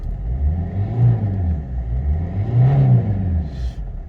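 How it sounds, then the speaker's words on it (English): A Vauxhall Corsa 1.3 diesel engine is revved while parked: a close, loud rumble swells in two throttle blips over a steady idle, with no voices. "I'll give it a quick rev for you."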